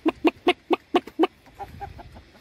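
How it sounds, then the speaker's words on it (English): A rooster in Sapa, Vietnam, clucks in a quick, close series of sharp calls, then trails off into softer, quieter clucks. "lovely little rooster."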